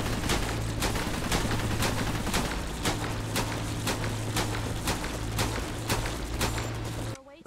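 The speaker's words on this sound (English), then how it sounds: "Shooting at something." Gunfire in the video game Cepheus Protocol: a steady run of sharp, evenly spaced shots, roughly two per second, over a constant vehicle engine hum, loud and close, stopping abruptly at the end.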